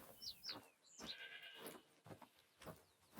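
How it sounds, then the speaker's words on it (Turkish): Several short sheep bleats from a hunting video game, Hunter: Call of the Wild, ring out one after another against quiet, soft background noise, fairly distant and a little thin. "Koyun sesi geliyor."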